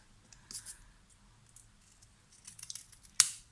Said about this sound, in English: This, I thought I'll just cut it in half.